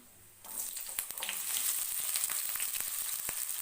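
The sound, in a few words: mustard seeds, cumin, garlic and onion frying in oil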